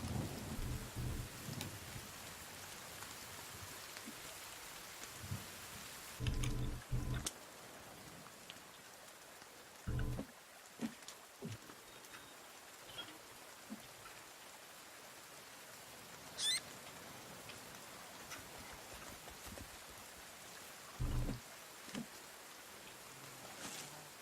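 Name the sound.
rain in a video game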